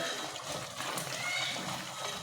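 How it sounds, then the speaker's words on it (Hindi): Water is poured into sizzling meat masala frying for achar gosht, giving a continuous loud hiss and splatter with no pause, close to the pan and with no talk over it. "थोड़ा जितना पानी पा दो तो ग्रेवी अच्छी बन जाएगी।"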